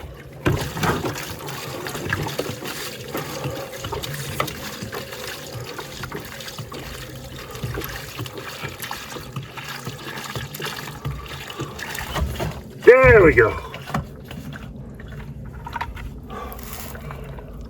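Running water fills a laundry container in an RV for about three gallons, a steady rushing pour with a brief louder gurgle near the end and a short spoken remark.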